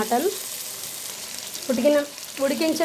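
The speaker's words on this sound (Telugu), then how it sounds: "ఉడికించిన మటన్ యాడ్ చేసుకుందాం" Boiled mutton is stirred into frying masala in a pan, with a low sizzle under bursts of wet scraping and mixing, close by, and a voice speaking between strokes.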